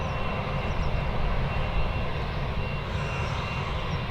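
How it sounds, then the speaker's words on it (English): Jet engines of a Ryanair airliner departing, a dense broadband roar that stays loud and steady for a few seconds without any voices. "It is looking like the next departure is going to be the Ryanair."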